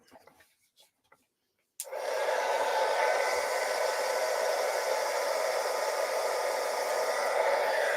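An embossing heat tool kicks on after a couple of quiet seconds and then blows a steady, loud, close whooshing roar without a break to the end.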